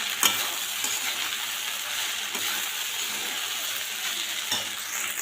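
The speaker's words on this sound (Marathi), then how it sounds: "पोहे छान असे परतून घेऊ।" Poha being stirred and sautéed in a pan for kande pohe, a steady sizzle under soft scraping of a spatula with a few sharper clinks, close and continuous, no voices.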